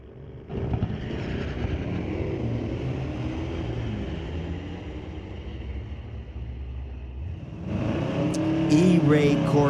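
A 2025 Corvette C8 E-Ray and a 1941 Fargo launch in a street-legal drag race at Mission Raceway Park, a sustained engine roar building and then swelling louder near the end, heard from trackside.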